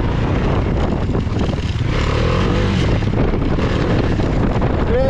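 A Bajaj Dominar 400 motorcycle rides an off-road patch, its engine droning loudly and steadily up close under heavy wind buffeting on the microphone.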